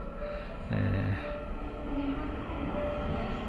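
An ITX-Saemaeul passenger train arrives at a station, rumbling steadily nearby, with a heavier low surge of wheels and carriage noise partway through and a faint tonal hum over the rolling.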